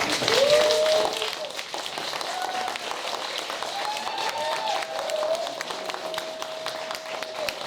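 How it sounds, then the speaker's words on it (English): Audience members at an SME development and mentorship press conference, standing up, applaud for several seconds, with scattered claps and crowd murmur and brief tonal whistles or voices over the clapping. "give yourself a round of applause for what you have achieved so far"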